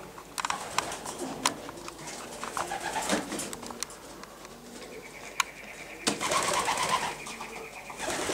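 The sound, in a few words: racing pigeons cooing in a loft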